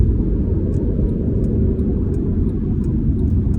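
A loud, steady engine and exhaust drone from a manual car with downpipes and a J-pipe, echoing in a tunnel, rumbles continuously, close and enveloping, with faint ticking clicks above it.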